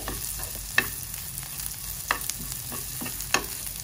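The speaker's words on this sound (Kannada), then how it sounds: "ನೋಡಿ ಈರುಳ್ಳಿ ಚೆನ್ನಾಗಿ ಫ್ರೈ ಆಗಿದೆ" Onions frying in oil for a tempering, with a steady soft sizzle and a few sharp stirring scrapes close by, no voices.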